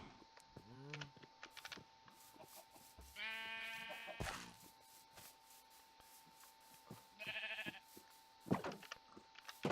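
Sheep bleating in the Minecraft game Hilshire Farms Arena, several distinct wavering bleats spread across ten seconds, clear and close, with clicking and shuffling sounds between them.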